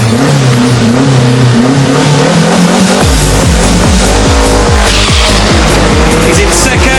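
A Renault 5 GT Turbo making about 250 horsepower revs hard and accelerates loudly, engine note climbing through rapid gear changes with a harsh, buzzing rasp, very close and loud.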